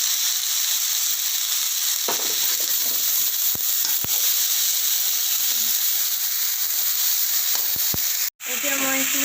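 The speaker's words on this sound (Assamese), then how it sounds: "আৰু এতিয়া মই ইয়াত কেঁচা জলকীয়া দি দিম।" Raw green chillies dropped into a hot frying pan give off a steady, loud sizzle and hiss that runs almost the whole time, broken by a few small clicks and one brief cutout near the end.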